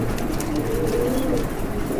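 Satin opal pigeons coo in soft, low repeated calls over a noisy, close background.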